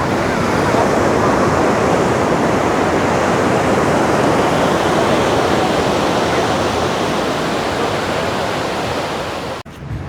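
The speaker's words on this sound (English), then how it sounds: "As you can see, it's quite wavy actually here." Ocean surf breaking on Seminyak Beach in Bali gives a loud, steady, broadband wash of crashing waves that stays constant and close throughout, with no voices, dropping briefly near the end.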